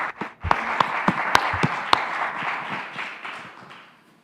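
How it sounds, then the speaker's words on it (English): Audience applause at a Bio x AI hackathon for the Solana team, with a few sharp, distinct nearby claps standing out over the crowd's clapping, which gradually dies away. "one more round of applause for the Solana team."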